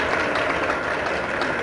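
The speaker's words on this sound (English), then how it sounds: "please give a round of applause to all the candidates" Audience applause for candidates at a presidential town hall meeting, a dense, steady wash of clapping throughout a short stretch, fairly loud and unbroken.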